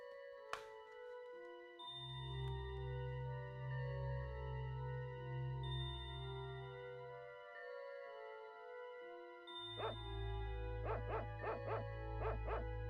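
In the Secret of Evermore video game, a dog barks a few times over synthesized background music, with sharp, short yaps near the start and a quick burst toward the end.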